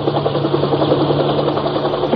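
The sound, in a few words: helicopter flying overhead, radio drama effect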